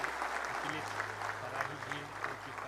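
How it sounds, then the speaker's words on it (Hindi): Loud crowd applause at a public event for Chief Minister Yogi's birthday, many hands clapping steadily with a low hum running underneath and faint voices mixed in. "जोरदार तालियां"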